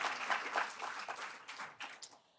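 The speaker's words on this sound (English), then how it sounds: "Ladies and gentlemen, give me a round of applause if yes." Brief applause from a poetry gala audience, moderately quiet and somewhat distant, a short burst of clapping that thins out and fades within a couple of seconds.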